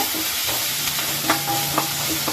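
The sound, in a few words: onions sautéing with ginger garlic paste in a pan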